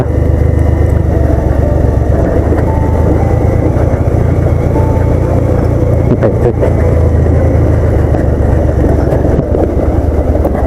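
A motorcycle grinds along in low gear over a landslide-damaged road, its engine a loud, close, steady drone with rumbling wind and road noise and occasional rattles, no voices.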